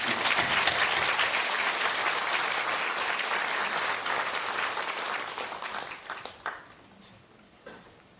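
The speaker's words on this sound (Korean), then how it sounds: "크게 박수로 맞이합니다." A church congregation at a pastors' installation and retirement ceremony breaks into loud, sustained applause that carries on evenly, then thins and fades out over the last two seconds.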